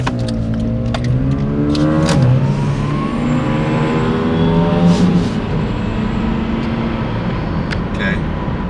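A Nissan G35 drives at half throttle, its engine note rising through the revs and easing off again, heard from nearby while people talk over it.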